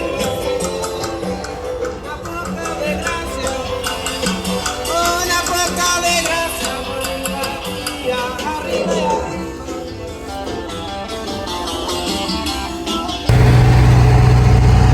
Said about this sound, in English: we are in the land of noisy fridge trailers